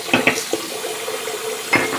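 Water from a bathroom tap runs into a sink for a quick rinse after a shave. A steady, moderate splashing flow is heard alone, with a few brief clinks and splashes near the start and end.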